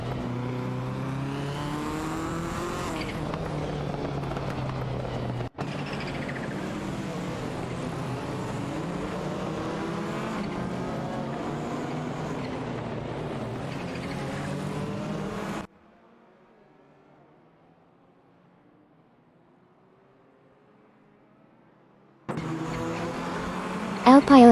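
Race car engines roar continuously in an AI racing video game, including an Alfa Romeo 75 and a Porsche 911, loud and steady with rising and falling pitch, then a gap of near silence before engines return.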